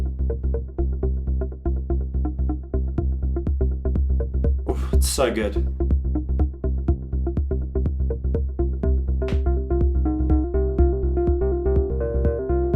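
A bright, hollow digital FM synth tone with ring modulation holds steady with rhythmic repeated notes, briefly joined by a short vocal exclamation midway.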